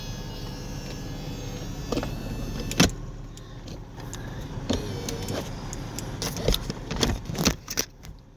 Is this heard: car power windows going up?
yes